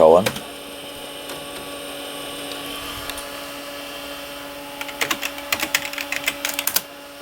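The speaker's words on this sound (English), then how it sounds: "Now if I type B:" Quick, clattery keystrokes on a vintage computer keyboard entering a drive command, heard as a rapid cluster of clicks over a steady machine hum, with a single thud at the start.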